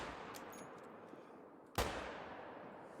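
A single sharp rifle shot cracks out in a hunting video game set on a roe deer hunt, sudden and loud over a quiet outdoor ambience, with a brief tail afterward.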